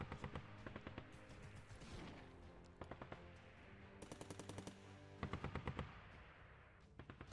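Rapid bursts of machine gun fire in the tank-combat video game Arms Trade Tycoon: Tanks, several rattling volleys spread across the clip and broken by short gaps, loud and close against a busy battle backdrop.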